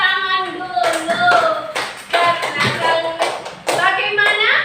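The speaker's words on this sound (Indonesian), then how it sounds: "Tepuk tangan dulu." Classroom students clap their hands together in a quick, patterned burst of sharp taps, with children's voices chanting along and breaking in between the claps.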